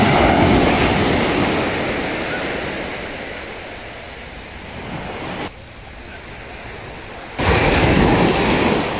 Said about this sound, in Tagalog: Kusog dagko na kayo ang mga balod oh.